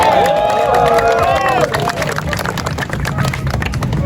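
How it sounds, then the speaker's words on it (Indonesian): An audience at an indoor charity event for disaster relief breaks into applause and cheers, with lively crowd noise and overlapping voices throughout. "Oh, tepuk tangan dulu."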